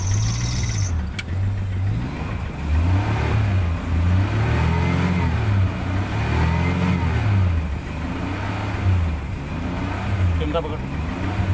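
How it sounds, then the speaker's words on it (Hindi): A 2010 Maruti Omni engine runs after ECM programming, idling and revving in uneven swells with a steady low hum throughout, close by and fairly loud, with voices talking over it. "गाड़ी भी स्टार्ट हो गई है, प्रोग्राम सक्सेस हो गया है"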